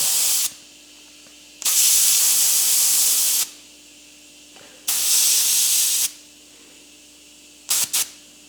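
Air hisses in sharp, loud bursts from a car tire valve as pressure is let down from about 41.5 to 39 psi, several releases of a second or two each separated by quiet gaps, ending with two very short puffs.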